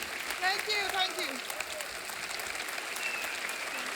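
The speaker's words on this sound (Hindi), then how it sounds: "ओ जोरदार तालियां।" Loud, sustained applause from a comedy show studio audience, a dense wash of many hands clapping at once, with a few brief voices and calls rising through it near the start.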